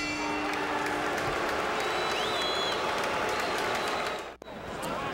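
A boxing arena crowd between rounds of the Bernard Hopkins vs. Howard Eastman fight makes a dense, steady roar of cheering and scattered applause, with a voice over it and a brief dip near the end.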